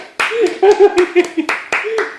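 A few sharp hand claps ring out between loud, excited voices calling out and urging someone on, the claps scattered and partly buried under the shouting.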